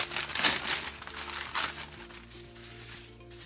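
A plastic seafood package holding calamari, prawns and mussels is crinkled and torn open over a pan of thickening sauce for a seafood pie, with close, irregular rustling bursts over a low musical hum.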